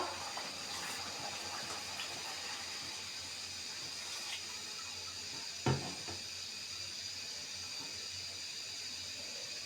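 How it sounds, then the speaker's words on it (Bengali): Water pours steadily into a pot of browned beef and potatoes during home cooking, a faint continuous gushing with one brief louder clunk midway. "এখন আমি পানি অ্যাড করবো"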